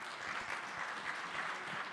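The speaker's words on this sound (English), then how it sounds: "Another round of applause for the Minister." Steady, dense applause from a conference audience for a government minister, an even wash of many hands clapping at moderate distance with no talk over it.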